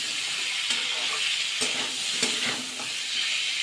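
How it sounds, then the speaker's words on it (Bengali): Beans and capsicum sizzle steadily in a pan for a mixed vegetable dish, a constant close frying hiss with a few sharp clicks of stirring scattered through. "এবার এর মধ্যে দেবো বিন আর ক্যাপসিকাম একসাথে দিয়ে ভাজা করে নেবো"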